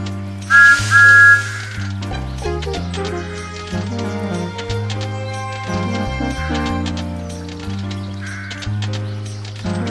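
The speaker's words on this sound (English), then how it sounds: "This is Thomas's whistle." A loud, bright steam engine whistle in a Thomas the Tank Engine video game blows twice in short bursts near the start, over cheerful synthesized game music that keeps playing throughout.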